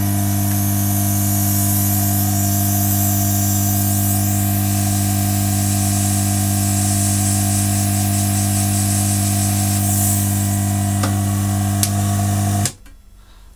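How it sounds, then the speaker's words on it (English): A hot air blower runs with a loud, constant whooshing drone as it shrinks heat shrink over wire ends, steady for about twelve seconds before cutting off abruptly. "We're going to get our hot air blower"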